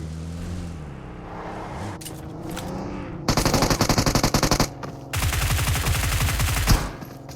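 Automatic gunfire in the mobile battle royale game PUBG Mobile: two loud, dense bursts of rapid shots, the first clipped and stuttering, the second longer and sustained, with quieter game sounds before them.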